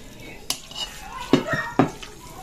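A spoon stirring sago gulaman dessert with cheese in a pot, giving three distinct scraping clinks against the container spaced about half a second apart, fairly close, with faint soft movement between them.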